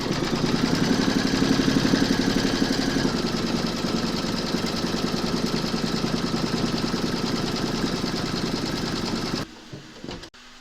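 An embroidery machine stitches a round through backing fabric held in a hoop, giving a steady, close, mechanical whirr with rapid needle rhythm for about nine seconds before it stops. Faint handling noises follow the stop.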